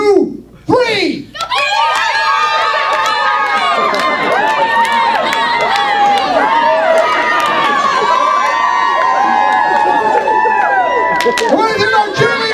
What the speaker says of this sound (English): you jump up, do a huge cheer for Palmer